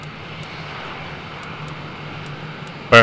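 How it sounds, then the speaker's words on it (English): An F-16 MLU jet engine in the Falcon 4 Allied Force flight simulator runs at a steady idle, an even droning hum that holds constant before a sudden loud burst right at the end. "Okay, engine is up and running."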